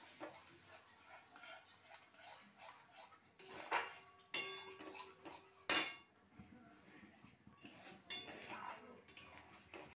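Spiced okra with ginger, chilli powder, turmeric and cumin being stirred and fried in a pan, a metal spoon scraping and clinking steadily against the pan with a few sharper knocks, close and fairly quiet with no talking.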